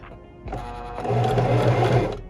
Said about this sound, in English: Make sure when you start it, you reverse and then you begin sewing again.